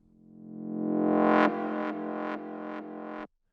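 Trance-style synthesizer growl with frequency modulation, a bright distorted tone that swells steadily for about a second and a half, then repeats in four shorter punchy stabs before cutting off, with no voices.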